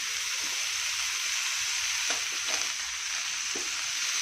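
Dried red chili and curry leaves fry in hot oil, giving a steady, close crackling sizzle with a few faint scrapes of stirring, and no voices.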